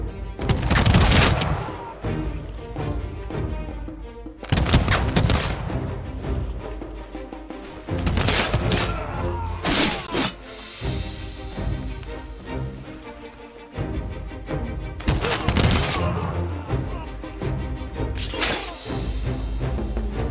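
Rapid musket volleys from massed troops in the strategy game Humankind crack out in several loud bursts, each followed by rumbling decay and brief pauses, with no talking.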